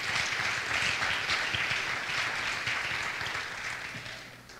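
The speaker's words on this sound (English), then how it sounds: "Clap your hands if you're thankful for that." A church congregation applauds together, a dense steady wash of many hands clapping that slowly fades toward the end.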